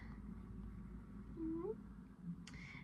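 A temperamental ginger cat gives a single short, rising meow midway through, moderately loud over a steady low room hum, with faint voices around it.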